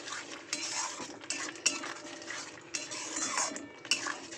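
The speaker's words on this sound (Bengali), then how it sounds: "তো এটাকে আগে ভালো করে মশলার সাথে কষিয়ে নেব" Egg curry masala with tomato sauce is stirred and fried in a pan, soft sizzling beneath repeated scraping and clinks of a metal spoon against the pan, fairly quiet and close.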